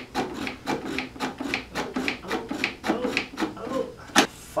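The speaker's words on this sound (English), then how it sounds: "I'm going to end up driving them most of the way by hand." Long drywall screws being driven by hand into rough pallet wood with a screwdriver, a steady run of about a dozen rhythmic rasping, creaking turns, close and moderately loud with no voice over them.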